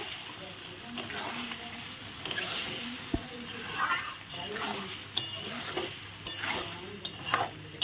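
Chicken pieces being sautéed and stirred in a pan for a spicy chicken curry, with a steady sizzle under repeated scraping and clinking strokes of a spoon against the pan, close by.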